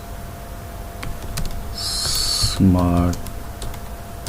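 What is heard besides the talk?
typing a wallet name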